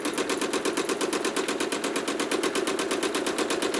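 A sewing machine stitches along the edge of an appliqué leaf on a quilt with a fast, even, close-up mechanical chatter that runs continuously without pause. No talking is heard.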